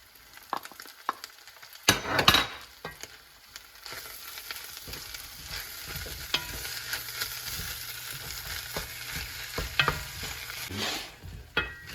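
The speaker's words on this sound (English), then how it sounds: "saute for 2 to 3 minutes. I'm also gonna add some jalapeno pepper," Chopped jalapeno pepper sautes in a hot pan while being stirred, a steady soft sizzle with scattered clinks and scrapes of a utensil, close and alone without talk.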